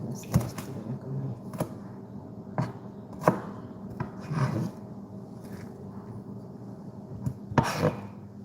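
Knife chopping onion on a cutting board in a home kitchen, a series of sharp irregular knocks spaced about a second apart, fairly close, with no talk over them.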